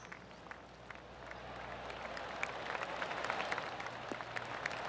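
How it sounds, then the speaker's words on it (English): Polite golf clapping from a gallery crowd in the PGA Tour 2K25 video game after a shot on a long par 4, a soft steady patter of many hands that swells slightly and holds at moderate volume. "Oh, golf clap."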